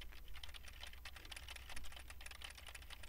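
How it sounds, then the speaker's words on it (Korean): Rapid clicking of a computer keyboard being typed on, picked up by a HyperX Cloud III headset microphone during a noise test, quiet, close and continuous with irregular keystroke rhythm. "먼저 키보드를 타이핑해 보겠습니다."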